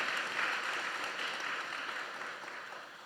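Congregation applauding during a Sunday morning church service: a dense, steady wash of clapping that holds for the whole stretch and eases slightly toward the end, with no voices over it.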